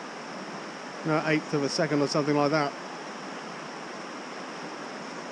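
River water at Hisley Bridge on Dartmoor rushes in a steady broadband wash throughout, with someone briefly talking over it near the start.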